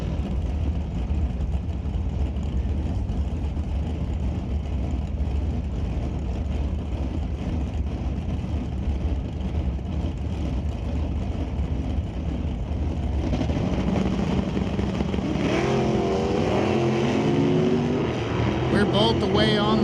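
Drag race cars at an NHRA Canadian divisional event, including a factory D/Stock 2015 Camaro, roar loudly off the starting line under continuous track noise, with engine pitch climbing sharply near the end; a commentator talks throughout.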